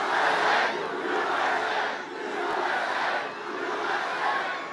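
A large crowd at a political campaign rally in Waterford Township, Michigan roars and cheers in sustained waves, loud and distant-sounding, swelling and dipping without any clear individual voices.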